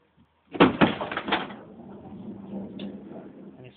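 A 2008 Honda Odyssey sliding door closing with a loud mechanical clunk and rattle, then a lower motor whir that runs on and stops partway through its travel, heard up close with no talking.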